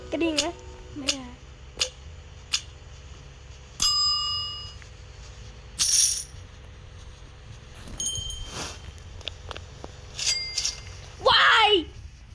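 A bell rings in the Roblox game Animal Hospital. Several clear, bright dings come at irregular moments alongside game effects, while someone talks over them.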